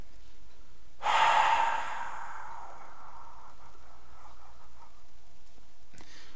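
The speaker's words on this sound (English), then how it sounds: "It's an open mouth, fogging up of the glass, long, slow exhale." A long, slow open-mouthed exhale, like breath fogging up glass, breathy and close, swelling quickly then fading out over a few seconds, alone in a quiet room with a faint tap near the end.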